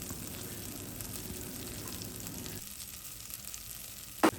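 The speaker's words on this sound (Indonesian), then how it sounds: "Kita tumis aja bumbu, daun jeruk, serai, dan daun bawang." Spices, kaffir lime leaves, bruised lemongrass and cut scallions stir-fry in oil in a pan, giving a steady close sizzle that drops slightly partway through, with a short sharp clink of the utensil near the end.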